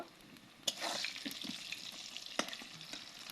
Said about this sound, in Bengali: আমি তেল গরম করে আলু ছেড়ে দিয়েছি আর হালকা হলুদ দিয়েছি, হালকা লবণ দিয়েছি। এবার আলুটা লাল করে ভেজে নিব